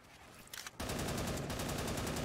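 Luigi fires a gun in a Mario video game. After a short pause the shots begin as rapid, rhythmic automatic fire. It stays steady and fairly quiet to the end, with no voice over it.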